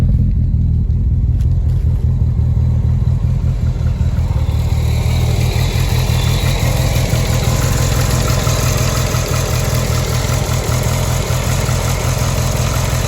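Car with a new motor running on E85 fuel, idling steadily with a loud, close rumbling drone and a slight rise in engine pitch partway through, continuous throughout.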